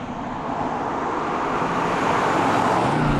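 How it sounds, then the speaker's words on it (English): An old Pontiac GTO muscle car cruises through curves on a country road, a steady, moderately distant engine and tyre drone that rises slightly in loudness over a few seconds. "I also couldn't take these country road curves like this before. This Pontiac's no road racer"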